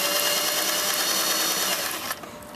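Domestic sewing machine stitching two curved collar pieces together at a 5/8-inch seam, a close, steady whirring hum that runs continuously for about two seconds, then stops, leaving quieter room noise.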